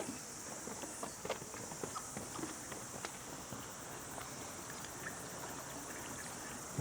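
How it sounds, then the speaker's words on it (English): A creek runs somewhere far below a native bush walkway in the Kauri Glen Reserve, New Zealand, giving a steady, faint rushing wash with scattered small clicks and rustles over the top. "you can hear a creek down there as well"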